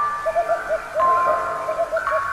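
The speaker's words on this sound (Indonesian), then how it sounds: "suara burung hantu terdengar seperti peringatan" A soft owl hoot repeats in a steady rhythm over a faint, eerie tonal drone, used as a spooky story sound effect set in a cold, tense night.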